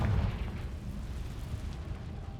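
Confringo spell explosion in Hogwarts Legacy, a short low boom that rumbles and fades into a dull lingering roar.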